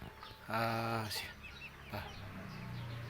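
A mixed flock of kept chickens cluck and squawk close by in the morning, one loud harmonic call followed by softer clucks, with background farmyard noise.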